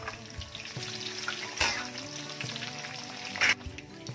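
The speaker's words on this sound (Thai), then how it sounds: "พริกกับใบมะกรูดลงไปทอดด้วยกันเลยจ้า" Dried chilies and torn kaffir lime leaves fry in hot oil alongside crisping chicken, giving a steady close crackling sizzle with a few louder bursts of spitting, no voices.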